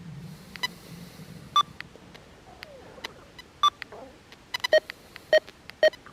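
Garrett Deus 2 metal detector with WS6 headphones sounding low tones over buried iron: a series of short, sharp beeps at irregular intervals, some doubled, fairly faint over a quiet background.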